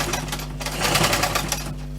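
A sewing machine stitches a simple bushcraft water bottle and utility pouch, a close, continuous rapid rattle running throughout the short stretch without any speech.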